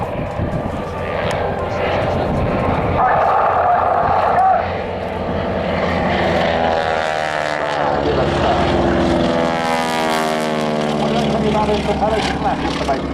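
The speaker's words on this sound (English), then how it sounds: "Marvellous roar there. This is a great engine, great big Hamilton propeller on the front end." A propeller aircraft fitted with a large Hamilton propeller roars past at the Waddington air display. The engine drone rises and sweeps in pitch as it passes, with a voice talking over it.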